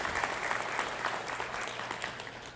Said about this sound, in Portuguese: Podemos bater palmas.